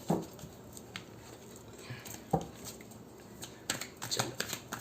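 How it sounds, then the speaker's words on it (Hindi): Tarot cards being shuffled by hand, soft quiet riffles and flicks coming in short irregular bursts, close by, with near silence between them. "मैं शफल कर लेती हूँ कुछ कार्ड्स को।"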